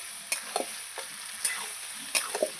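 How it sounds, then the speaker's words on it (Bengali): Mutton being slow-fried in a pan, with a soft steady sizzle and a few sharp scrapes of a spoon stirring the meat at irregular moments, fairly quiet and close. "এবার মাংসটাকে আমি ভালো করে কষাতে থাকবো সময় নিয়ে আমার মাংসটাকে কষাতে হবে"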